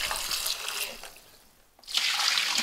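Water running over raw pork being rinsed in a home kitchen, a trickling splash that dips briefly to near quiet before returning louder and brighter.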